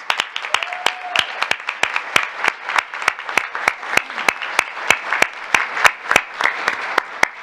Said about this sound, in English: Please give this group another round of applause.